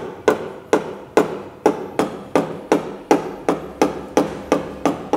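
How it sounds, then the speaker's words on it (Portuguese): A hammer taps out a car body dent in paintless dent repair, striking in a steady rhythm of about a dozen sharp, close metallic blows with short decays and no talking. "já muda para o martelo"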